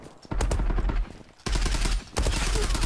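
Desert Eagle pistol fire in a first-person shooter game: loud, close gunshot bursts with sharp cracks and heavy low-end booms, coming in three dense clusters separated by brief gaps, with no talking.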